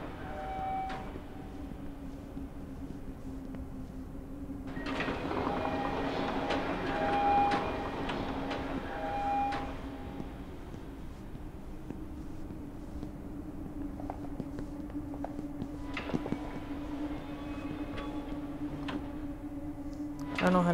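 A train rolls along rails in the video game The Mosaic, giving a quiet, steady rumble with a constant hum and occasional clanks and ticks, rising in the middle and again near the end, with no talk.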